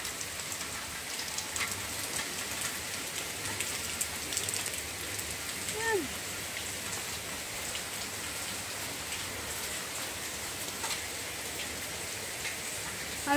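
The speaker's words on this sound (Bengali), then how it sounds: "চারিদিক কি সুন্দর বৃষ্টি হচ্ছে।" Steady rain falls all around a house in a leafy, rural setting, a dense even hiss with scattered drip taps, recorded close and continuous without a break and with no talking.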